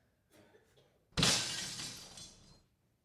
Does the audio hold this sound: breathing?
no